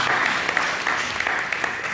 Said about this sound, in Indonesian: Beri tepuk tangan yang baik buat Tuhan kita.